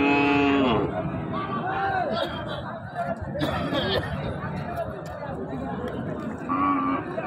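Sahiwal and crossbreed cattle bulls low with deep, drawn-out moos at a busy livestock market, one near the start and another near the end, over constant crowd chatter and people talking nearby.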